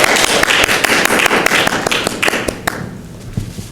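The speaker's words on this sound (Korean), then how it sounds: "박수로 환영하겠습니다." Applause from a church congregation welcoming a returning member during Sunday announcements, a dense patter of many hands clapping close by that thins out and fades over the last second.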